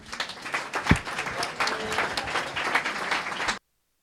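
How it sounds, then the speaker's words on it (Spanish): Audience applause for the Physics League at a Pint of Science talk evening in Valladolid, a sustained patter of many hands clapping at moderate distance that stops abruptly. "os pido un fuerte aplauso para Physics League"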